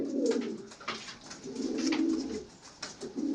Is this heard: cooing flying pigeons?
yes